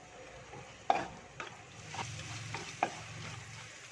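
Fenugreek, ginger and garlic frying in oil for a Kerala-style king fish curry, a quiet close sizzle with a few sharp spoon taps and stirring scrapes.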